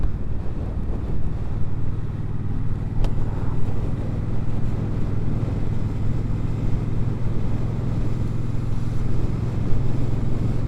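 Triumph-style Speedmaster 1200 motorcycle, a 2024 model, cruising in third gear with a steady low engine drone buried under heavy wind buffeting across the whole stretch, no voices.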